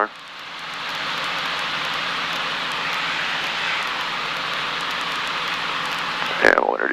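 A Cessna 152 light airplane engine drones steadily in flight at about 90 mph, a loud continuous cabin hum and roar, until a voice cuts in briefly near the end over the engine.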